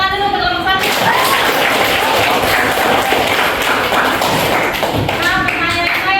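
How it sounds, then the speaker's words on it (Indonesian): An audience applauds a student group after its performance at a teachers' jamboree, steady dense clapping filling the whole stretch, with a voice briefly heard at the start and end. "tepuk tangan dulu untuk kelompok 1"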